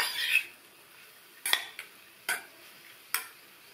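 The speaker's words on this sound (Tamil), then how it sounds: "தேங்காய் துருவல் சேர்த்துட்டு நல்லா ஒரு தடவை மிக்ஸ் பண்ணி விட்டுருங்க." Grated coconut mixed into a ridge gourd stir-fry in a quiet pan: four or five separate, crisp spatula scrapes and clinks with short silences between them, close and fairly soft.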